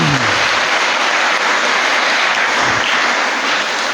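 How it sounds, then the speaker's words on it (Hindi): A church congregation at a Sunday Mass bursts into loud, sustained applause, a dense wash of clapping that stays steady and close from start to finish with no talking over it. "एक दफ़ा चाहूँगा सब नौजवानों के लिए ज़ोरदार तालियां बजाते हैं।"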